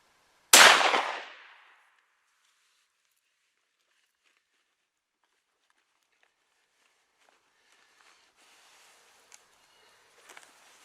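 A single loud, close shotgun blast from a 2 3/4-inch Super X shell while whitetail hunting in Iowa, its crack decaying over about a second into near silence with faint rustling afterward.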